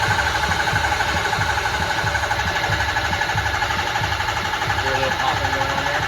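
A 6.0 diesel engine running just after cylinder head repair, loud and close with a steady rhythmic idle and a light repeated popping throughout, while a voice talks over it.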